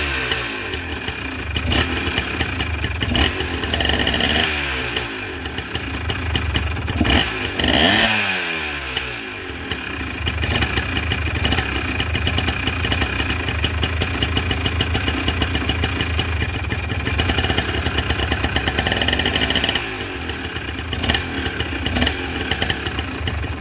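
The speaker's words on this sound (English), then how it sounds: "I turn the idle up." A 1984 Honda 250R three-wheeler engine runs at a raised idle, a steady buzzy two-stroke putter close by, with a couple of brief throttle blips partway through.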